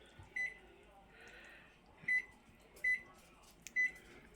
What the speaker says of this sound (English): So, kitchen timer.